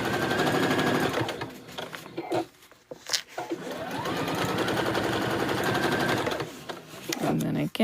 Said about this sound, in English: we're going to back stitch. Just coming down the other side now.